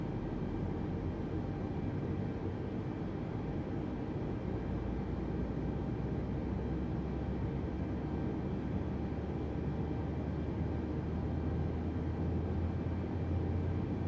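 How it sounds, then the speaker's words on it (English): An Airbus A320neo's big jet engines spin up on a delivery flight, a steady, moderately quiet, broadband rumble and whine that holds unchanged throughout. "I do love that sound. Big engines firing up."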